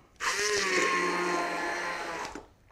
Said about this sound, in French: Et je vais simplement les mixer avec mon mixeur à main.